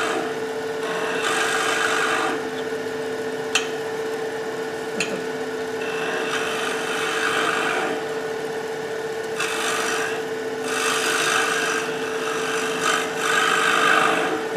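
A gouge cuts into an enclosed wooden form spinning on a lathe, giving a steady rubbing rasp that swells and eases in bursts over a constant motor hum, with a couple of sharp taps, close and without talk.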